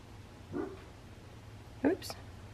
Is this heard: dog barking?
yes